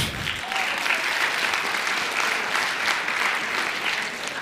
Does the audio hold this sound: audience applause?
yes